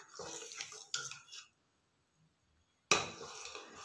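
A spoon stirs thick potato papad batter in a cooking pot, making soft scraping, sloshing strokes in two bursts separated by a near-silent pause, close and fairly quiet.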